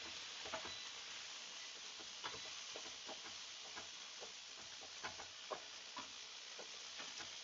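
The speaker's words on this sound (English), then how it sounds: "And we're just cooking now until the shrimp are done." Shrimp frying in a pan with stir-fry ingredients, a steady soft sizzle and hiss with scattered light scraping taps from a spoon stirring, quiet and close, no talking.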